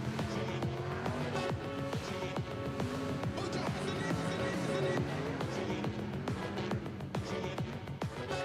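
Sprint cars racing a heat at Ruapuna Speedway, a loud, continuous engine roar with many overlapping revs and passes, and a voice speaking over the noise.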